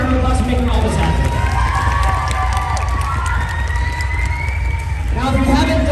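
A crowd claps and cheers at a cheer competition awards event, a dense, continuous roar of applause and shouting voices with speech mixed in.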